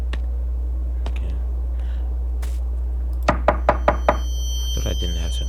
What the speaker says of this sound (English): Time to knock.